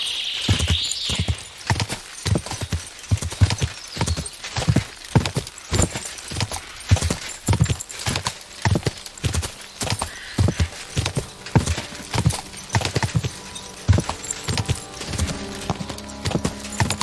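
Horse hooves clip-clop steadily in Kingdom Come: Deliverance II, a close, rhythmic series of sharp hoof strikes over a quiet ambient bed, with a brief whinny-like sound near the start and faint background music.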